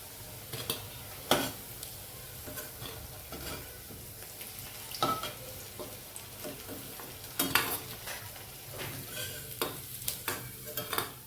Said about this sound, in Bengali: বড়াগুলো ভাজা ভাজা তুলে নিচ্ছি।